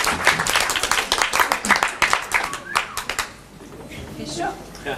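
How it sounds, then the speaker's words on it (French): Audience at a cabaret singing contest applauds in a dense burst of clapping mixed with voices and whoops, loud at first and then thinning toward the end. "on peut l'applaudir plus fort"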